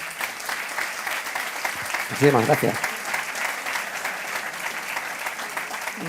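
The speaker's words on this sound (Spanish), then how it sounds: "un fuerte aplauso, claro que sí" Audience applause at a talk on inheritances and donations, steady broadband clapping filling the whole stretch, moderately loud, with a brief spoken thank-you from a man partway through.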